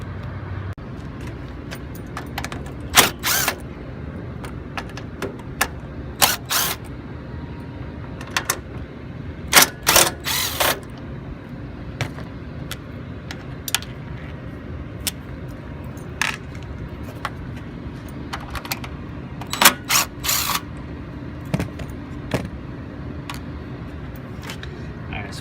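Phillips screws being removed from the headlight bezel of a 1995 Jeep YJ, heard as scattered sharp metallic clicks and clinks against a low steady background hum, with no voice.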